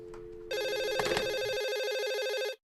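A telephone rings close and loud in an office scene, a single sustained trilling electronic ring that starts abruptly and cuts off after about two seconds.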